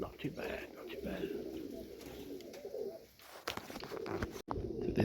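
Junior highflyer Serbian Tippler pigeons coo softly at a loft on a calm afternoon, steady low cooing under outdoor ambience and some background talk.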